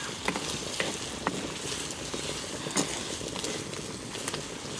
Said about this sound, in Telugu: ఇదిగో అత్త నూనె అయితే కాగింది, ఇందులో ఉల్లిపాయ ముక్కలు వేసుకుంటున్నా.